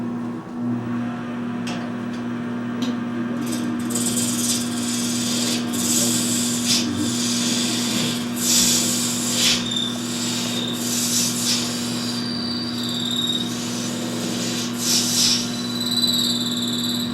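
Ivory turning on a lathe with a round nose high-speed steel scraper, the workpiece held in a self-centering chuck; a steady motor hum runs throughout under intermittent scraping bursts and rasping squeals, close and fairly loud.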